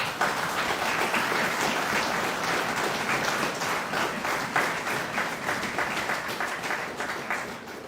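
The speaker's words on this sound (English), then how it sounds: "recognize with a loud round of applause the officers and all members of the Guyana Defense Force" Audience at the opening of the Guyana Defence Force Annual Officers' Conference gives a loud, sustained round of applause, dense steady clapping that fills the hall for the whole stretch and tapers slightly at the end.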